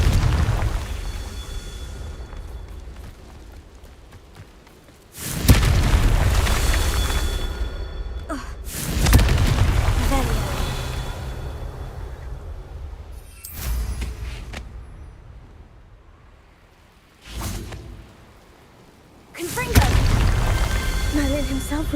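Repeated Confringo fire spell blasts in Hogwarts Legacy land as several heavy booms spaced a few seconds apart, each with a sharp onset and a rumbling decay, mixed with the game's background sound.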